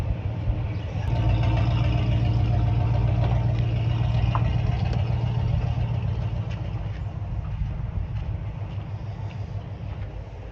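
An old five-window car's engine idles with a steady, low, even rumble that runs unbroken throughout, fairly close and with no talking.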